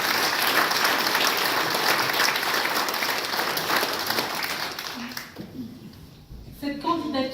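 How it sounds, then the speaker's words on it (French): A crowd at a French town gathering in Arpajon claps warmly for volunteers and municipal staff. The dense, loud applause thins out after about five seconds, and a voice begins speaking over the fading claps. "Je pense que l'on peut les applaudir chaleureusement."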